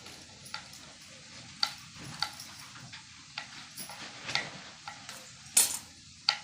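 A knife chops peeled garlic cloves on a board while Masale Bhaat is being cooked, giving irregular, sharp, close taps and clicks over a faint kitchen hiss.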